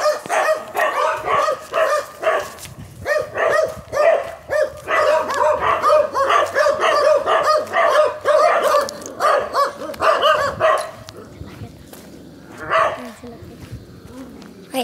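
Several neighbourhood dogs bark repeatedly in rapid, overlapping bursts, fairly close and loud, with occasional yips, then thinning out near the end; a person talks intermittently underneath.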